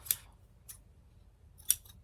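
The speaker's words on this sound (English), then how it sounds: "and snip it off." Small scissors snip thread on a felt Christmas ornament: three crisp, close snips, two near together and a third after a short pause, over quiet room tone.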